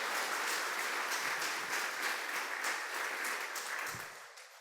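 A church congregation applauds at a Spanish-language evangelical service, producing a steady, dense wash of clapping that holds loud through the clip and thins slightly at the end.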